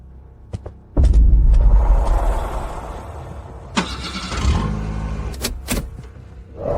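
A car engine cranks and catches with a loud close rumble, then settles into an idle as clicks, a door or window sound and a short whir follow.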